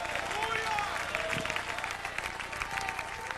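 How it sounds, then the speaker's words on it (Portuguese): A church congregation claps along steadily, with a voice speaking or singing over the dense applause throughout. "Aplauda ao Senhor com alegria."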